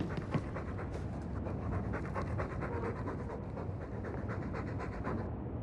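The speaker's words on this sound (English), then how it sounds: "All that noisy dog breath" A dog in Dragon Age 2 pants in quick, steady rhythmic breaths, close and continuous, with no talking.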